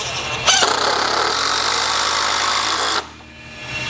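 A power drill drives a screw into a rolling workbench with one sustained, loud whir of about two and a half seconds that cuts off sharply, heard close.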